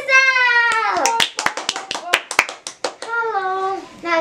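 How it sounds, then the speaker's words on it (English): Short burst of clapping by a group welcoming a guest to a school announcements broadcast, a few quick claps mixed in between children's voices, with kids talking before and after. "will everyone give a round of applause to Giselle?"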